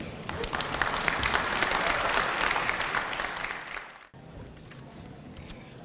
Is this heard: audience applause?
yes